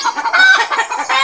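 A backyard hen clucks in quick, close, repeated bursts, loud and alone with no talking.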